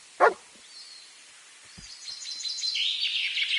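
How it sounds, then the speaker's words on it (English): A dog in Kingdom Come: Deliverance II lets out one sharp, loud bark near the start, followed by quieter thumps and then rising birdsong chirping in the background of a rural outdoor scene. "Sit and bark."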